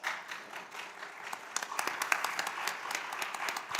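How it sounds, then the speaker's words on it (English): An audience at an economic development and cooperation conference session applauds a speaker being introduced, a moderate burst of clapping that swells in the middle with sharp individual claps standing out. "Let's give him applause."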